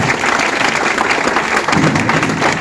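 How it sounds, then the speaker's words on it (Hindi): A big crowd at a Vestige direct-selling company meeting gives loud, steady applause for the management, a thick roar of clapping that continues throughout. "आज इस विजनरी मैनेजमेंट के लिए तालियां"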